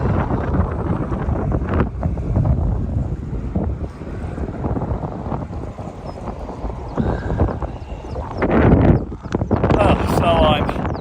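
Wind buffets the microphone while cycling the NC500 road out of Ullapool in the Scottish Highlands on a warm evening, a loud continuous rumbling roar with gusty swells.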